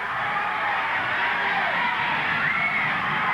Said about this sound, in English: And the crowd yelling.